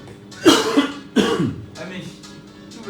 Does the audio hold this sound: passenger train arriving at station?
no